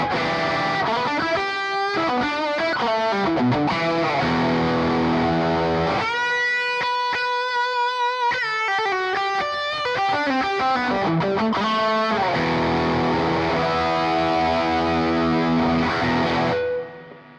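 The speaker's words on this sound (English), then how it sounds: "Let's switch over to the lead channel." Distorted lead tone from the overdriven lead channel of a Mesa Boogie Mark IIC+ guitar amp, with loud, close, continuous riffing and sustained chords that drop to a cleaner held phrase in the middle before the gritty playing resumes.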